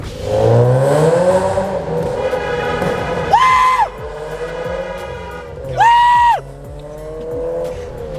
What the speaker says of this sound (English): he's gonna rev it up for us